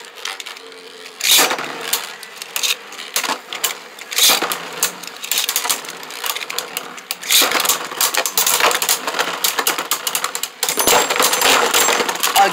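Four Beyblade spinning tops, Geist Fafnir, Cho-Z Achilles, Hercules H4 and Phoenix P4, launched together into a stadium for a battle. A sharp burst opens a long, loud, close stretch of dense metallic rattling and clattering.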